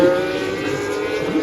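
Formula 1 car on a flying lap at the Miami Grand Prix practice session, a steady high-pitched engine whine held for a moment at moderate distance.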